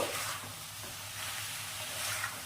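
Jackfruit and potatoes with salt being stir-fried in a pan for a vegetarian jackfruit dalna, giving a steady, soft close sizzle with faint stirring scrapes and no talk.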